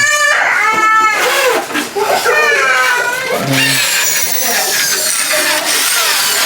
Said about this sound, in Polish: Wszystko jedną taką wiertarką robią na prąd.